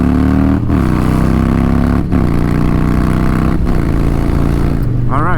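Motorcycle engine droning loudly and steadily at speed in highway traffic, with brief dips as gears shift and a closing rise in pitch; a rider talks over it.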